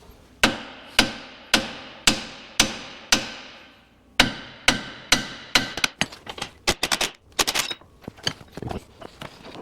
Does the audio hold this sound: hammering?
yes